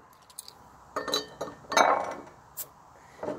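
Homebrew beer bottles and a drinking glass clink together in a few light, separate knocks and taps before pouring, close by and fairly quiet, with no talking.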